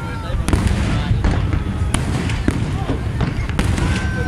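Fireworks bursting over a park during New Year celebrations in Sharjah, a rapid string of sharp cracks and pops at close to moderate distance, with people talking beneath the explosions.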